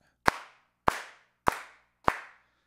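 Four evenly spaced sharp clap hits fall on quarter notes in a GarageBand drum track, each with a short bright decay, followed by a fifth clap cut off at the end; no voices.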